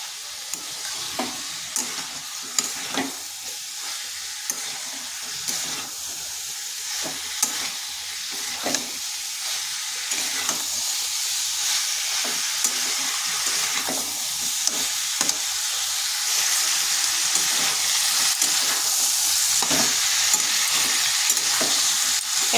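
Potatoes and cauliflower sautéing with spices in a pan make a continuous steady sizzle, with regular scraping and stirring strokes of a spatula close by.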